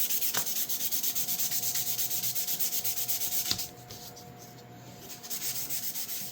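Sandpaper rasps against a surface in rapid, regular up-and-down hand strokes, close and loud, pausing briefly in the middle before the rhythmic scrubbing resumes.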